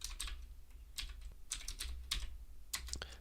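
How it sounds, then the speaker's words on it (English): Typing on a computer keyboard at a Linux workstation, short clusters of light clicky keystrokes close by, quiet and unaccompanied by speech. "So I'm going to type"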